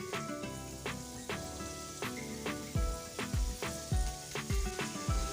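Masala and yogurt fried in a pan as chopped onion leaves go in, a steady sizzle with repeated stirring scrapes and thumps under a background of tonal music.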